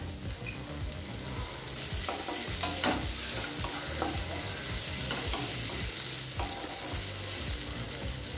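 Tomatoes and cashews sauté in a pan with a dense, steady sizzle, and a spoon stirs them throughout with soft scraping and clinking strokes close by.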